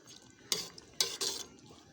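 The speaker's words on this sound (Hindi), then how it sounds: "इसको हल्का हल्का हम हिलाएंगे आस्ता आस्ता ऐसे" Rice and vegetables being gently stirred in a cooking pot for jungli pulao, giving a few soft scraping bursts of spoon against metal separated by quiet pauses, close and fairly faint with no talking.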